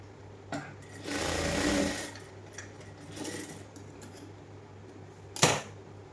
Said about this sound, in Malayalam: 1/2 ഇഞ്ച് ഗ്യാപ്പിട്ട് നമുക്കൊന്ന് അടിച്ചു കൊടുക്കാം.